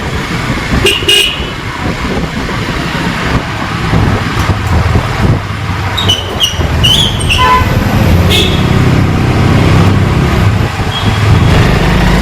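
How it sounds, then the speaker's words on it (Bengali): A car engine labours up a steep hill road in Darjeeling in low gear, a loud, sustained rumbling drone, with several short horn toots from nearby traffic cutting in. "এই তো পাহাড় গাড়ি উঠছে সাউন্ড বোঝা যাচ্ছে"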